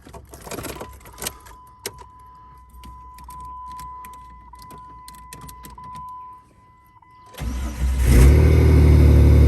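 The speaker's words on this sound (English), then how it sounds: "But let's see how she fires up." Keys jangle near a steady electronic chime, then a 2003 Jeep Laredo WJ with freshly replaced spark plugs cranks and fires up about seven seconds in, settling into a loud, close idle.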